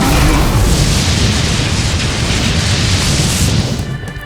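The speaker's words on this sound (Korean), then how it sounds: "번개 한번 쏴야겠다" Loud booming lightning strike from a video game, a dense crack and rumble that fills the whole clip at close range before easing off at the end, with no talk over it.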